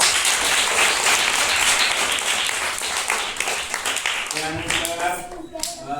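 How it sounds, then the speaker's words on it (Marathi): School students applaud an election result with a loud, sustained burst of clapping that fades slightly toward the end, with voices mixed in. "टाळ्या वाजवा।"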